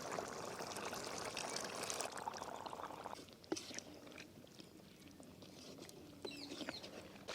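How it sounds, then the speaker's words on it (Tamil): Tamarind water pouring into a village-style dried anchovy fish curry, a steady close splashing stream that thins to trickles and drips, with a faint voice briefly in the background. "கரைச்ச வச்ச புளி தண்ணி சேர்த்துக்கலாம்"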